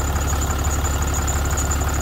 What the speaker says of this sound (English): Sounds like an alternator.